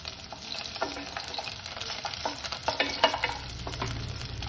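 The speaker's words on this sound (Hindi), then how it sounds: "प्रथम पियाज को पकईदेवा।" Onions fry in oil, a steady close sizzle with scattered stirring scrapes and clicks throughout, moderately loud and without talk.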